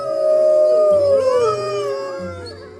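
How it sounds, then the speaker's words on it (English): Several wolves howl together in a long, wavering chorus between rival packs, the overlapping cries close and loud, sliding up and down in pitch over a low rumble. "inter-pack howling will determine the size and strength of different pack"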